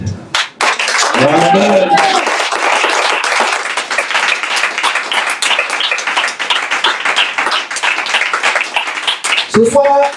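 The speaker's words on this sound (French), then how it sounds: "Acclamez le Seigneur." A church congregation bursts into sustained, loud applause after a brief voice, the dense clapping filling the room for several seconds before a speaker's voice returns at the end.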